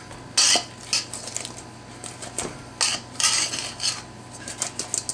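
Chipotle chicken wings being stirred and tossed in a bowl, with a run of sharp clinks and scrapes of a utensil against the dish in irregular bursts, close and loud, with no voices.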